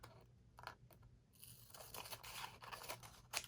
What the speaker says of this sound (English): I will just use the scissors.